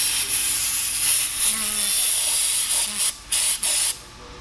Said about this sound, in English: Just going to spray around the top.